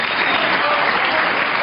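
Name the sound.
snooker crowd applauding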